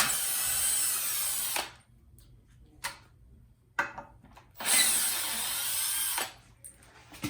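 A power drill with a T25 Torx bit backs out electric scooter stem screws in two loud, close whirring bursts, separated by quiet gaps holding brief taps and clicks of handling.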